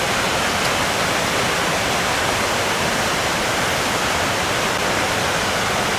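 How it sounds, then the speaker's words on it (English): Upper falls of Ottertail Creek pour in a steady, loud broadband roar, a constant rush of falling water at a scenic rest stop on a hiking trail, with no voices over it. "So this is the main upper falls of the Ottertail Creek."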